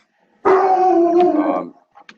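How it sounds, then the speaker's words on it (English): A neighbour's dog gives one loud, drawn-out bark that stretches into a howl-like yelp lasting about a second, then trails off into faint noise, heard alone with no talking. "There's somebody's dog barking."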